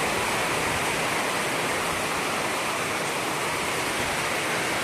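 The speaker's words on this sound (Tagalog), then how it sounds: "Lakas sa tubig." Strong, steady rush of water pouring into an irrigation inlet, a loud, continuous broadband roar close by with no pauses and no voices.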